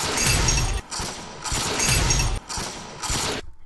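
Glass shattering from a shatter effect, heard as three loud crashing bursts of breaking glass in quick succession, each cut off by a short gap, with the last one tailing off into light tinkling.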